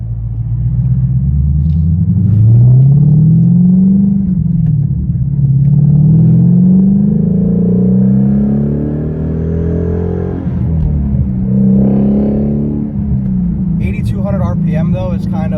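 Ford Shelby GT350 V8 revving hard toward an 8,000 RPM redline from inside the car, a loud continuous rising and falling engine drone that fills the clip, with a brief sharper burst near the end.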